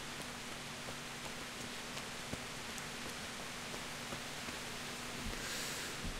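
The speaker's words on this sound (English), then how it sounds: "I think the rain's pretty convincing." Rain falls steadily in the medieval video game Kingdom Come Deliverance, a soft, even hiss with faint scattered drops throughout, heard alone without talk.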